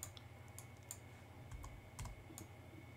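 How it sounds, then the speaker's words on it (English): Soft, faint keyboard clicks from a few separate key presses, left bracket among them, sound over a low steady hum. "So I'm going to press my left bracket key a couple of times."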